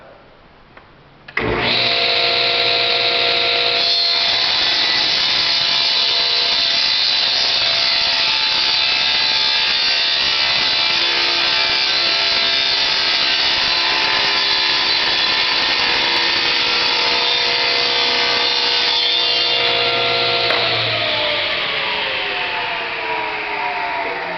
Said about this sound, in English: I get my blade high enough here so that I can come through the thickness of the fixture as well as the thickness of the stock that I'm cutting.